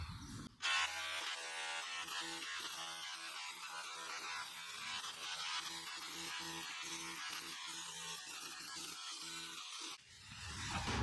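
A Makita SDS drill runs steadily up close with a rapid, rhythmic hammering buzz that starts after a short pause and continues for about ten seconds with no talk.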